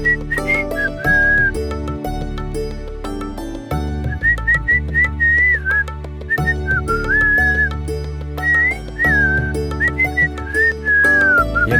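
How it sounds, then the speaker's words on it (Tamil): Someone whistles a lively, wavering tune loudly in the morning, the melody carrying over steady background music with a deep bass line. "காலையில விசில் சத்தம் காதெல்லாம் கிழிக்குது"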